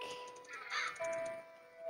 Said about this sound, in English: The noise of birds brought me back to reality.